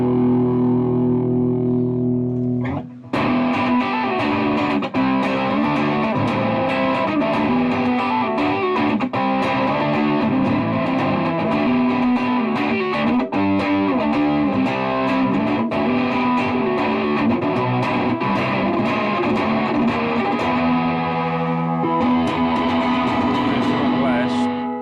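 Heavily distorted, effected music tone through a reel-to-reel tube tape distortion pedal, loud and sustained throughout with dense overdriven harmonics and a brief dropout near the start.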